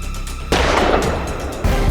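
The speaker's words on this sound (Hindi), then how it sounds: "डायरेक्टर वर्मा वापस मेरे टारगेट पे आते ही मैंने गोली चलाई।" Gunshots in a crime drama scene: a sudden loud broadband blast at half a second rings out into a sustained reverberant roar, then a second heavy shot hits near the end, close and forceful, with no talking.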